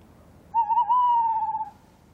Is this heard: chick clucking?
no